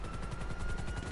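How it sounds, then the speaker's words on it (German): A helicopter going down in GTA 5 Online, heard as a brief, faint burst of rapid rotor chopping with a clattering, gunfire-like pulse and a steady whine, lasting only about a second. "Achtung, da stürzt mir gerade ein Helikopter runter."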